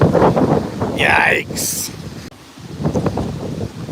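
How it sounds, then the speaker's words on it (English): Strong wind gusts buffet the microphone outdoors near a greenhouse, a steady broadband roar rising and falling under a man's speech, with a brief sharp whistle in the middle. "It's gotta get so dang windy."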